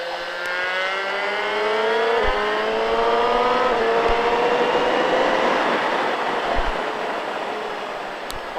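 A car accelerating on a driving course, its engine note climbing steadily in pitch as it pulls away, loud and continuous with no voices.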